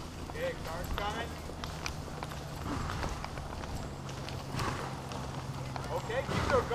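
Horse hooves clip-clop faintly in an irregular walking rhythm on a farm while people talk over them nearby.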